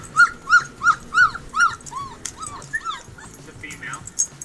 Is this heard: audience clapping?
no